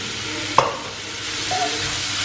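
Chicken being mixed with masala, turmeric and chilli powder in a pan, with one sharp scrape of the spoon, then soft sizzling and a second quieter scrape alone.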